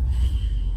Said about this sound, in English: Why are you breathing in my ear, B?